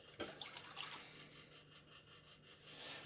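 Milk pours into a saucepan with a quiet, liquid splashing and trickling that starts with a few splashy bursts and then settles into a soft, steady flow. No one speaks.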